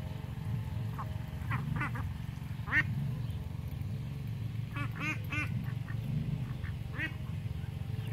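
Homestead ducks quack in short, repeated bursts over a steady low background hum, with scattered calls close by and a small cluster of quacks near the middle.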